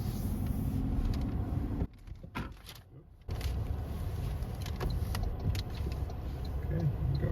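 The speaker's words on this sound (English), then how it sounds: "Just giving a little bit of gas. Super smooth starting." A 2024 Toyota Tacoma SR with a manual transmission pulls away smoothly in first gear, its engine a low, steady hum heard from inside the cab with a brief dip midway.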